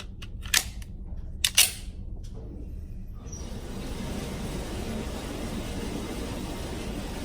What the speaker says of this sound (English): Let's do some one-handed shooting. Start with the right hand.